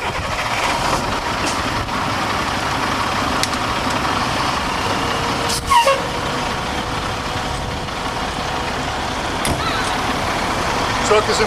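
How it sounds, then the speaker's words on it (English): A fire truck's engine runs steadily in pump gear during foam operations, a constant low rumble that holds for the whole stretch with a few brief knocks and clanks over it. "Truck is in pump gear."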